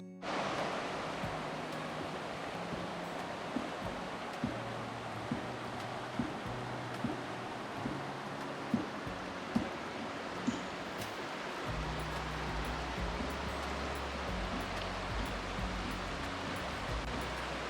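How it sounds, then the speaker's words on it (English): Running water of Harper Creek, a steady, broadband rush of flowing stream water heard close by, with faint, regular low clicks and rustles underneath. "We got us a nice, beautiful little running spot of the creek here."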